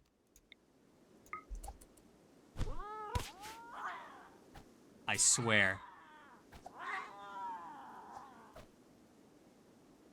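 House cats meow and caterwaul in a series of drawn-out, rising and falling cries in the video game RimWorld, mixed with clicks and a voice speaking over them.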